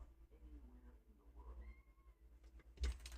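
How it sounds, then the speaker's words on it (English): A house cat meows faintly indoors during a live paper-crafting session, with a few soft, drawn-out cries and a sudden bump near the end. "let me go let the cat out"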